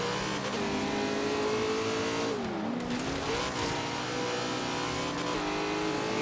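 A Ford Mustang in Forza Horizon 3 revs hard, its engine note climbing, dipping between gear changes and climbing again, loud and continuous with no voices over it.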